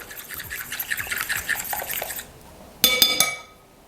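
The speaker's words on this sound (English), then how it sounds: "In my pureed pumpkin, I'm gonna add 1 egg and we're gonna whisk that up" A whisk scrapes rapidly against a bowl, beating an egg into pureed pumpkin for cinnamon pumpkin dinner rolls, brisk close strokes for about two seconds, then a few sharp clinks of the whisk against the rim.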